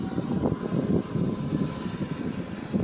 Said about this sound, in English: Got the drone forward.